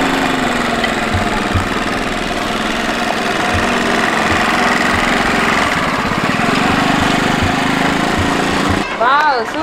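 A scooter engine running steadily at low speed during a slow riding lesson, a loud, close, even drone that drops away near the end.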